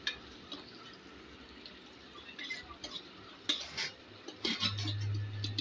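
Cut okra frying in oil in a pan, with quiet crackling and a series of metallic spatula scrapes and clinks that grow louder toward the end.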